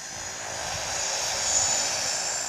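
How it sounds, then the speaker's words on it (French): A seaplane engine drones steadily over Maldives waters during landings and takeoffs, a broad roar that swells slightly partway through, with no voices. "Chaque jour, ils assistent à un balai incessant d'amérissage et de décollage d'hydravions."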